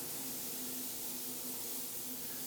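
A spray gun lays a second coat of paint on a Chrysler 200 car body with blowers running, a steady, loud hiss with a faint hum beneath and no talk.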